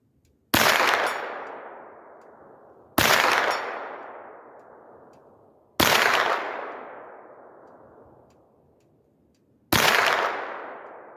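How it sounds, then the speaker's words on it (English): Four well-spaced 9mm shots from Tula Sergeant Major ammunition strike a 6-inch steel plate at 100 yards, each a sharp crack followed by a long, bright ringing clang that slowly fades out. "I'm shooting it with this Sergeant Major Munition from Tula Works"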